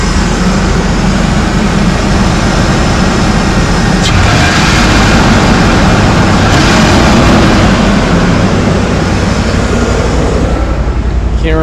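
A 5.4-litre V8 engine with no coolant idles loudly and steadily throughout with a deep continuous rumble, no voices present.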